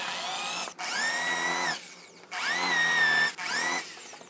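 A power drill with a 3/8 bit cuts shallow counterbore holes into wood for a simple wooden stool, three loud whining bursts with brief pauses between, close and alone.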